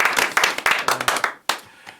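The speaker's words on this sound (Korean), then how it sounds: "우리 조진우 목사님께 다시 한번 박수 드리겠습니다" A small lecture audience claps for a pastor, a short burst of crisp, close handclaps at a quick uneven rhythm that thins out over about two seconds.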